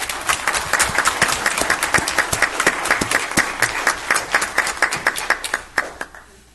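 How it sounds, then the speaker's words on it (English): An audience at a Twin Falls city council meeting claps for a group's community service, with sustained close applause of many hands that thins out and tapers off at the end. "I just ask all of you to join me now in applauding them for all of their hard efforts"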